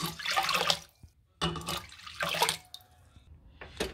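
Water is poured onto one cup of lentils, three cups in all, to cook them. It comes as a few close, splashy pouring bursts separated by short pauses, with no talking.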